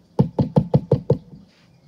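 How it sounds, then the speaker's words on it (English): Six soft knocks on a wooden cottage door, evenly spaced in a quick steady rhythm, close and clear with no other sound around them. "The wolf knocked softly on the door."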